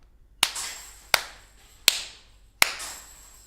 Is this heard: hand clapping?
yes